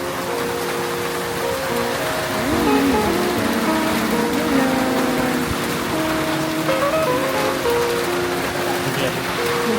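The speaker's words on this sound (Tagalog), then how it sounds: "Sakto ngang bumuhos ang malakas na ulan." Heavy rain pours steadily onto surfaces outdoors, a dense continuous hiss with a faint tonal hum running underneath.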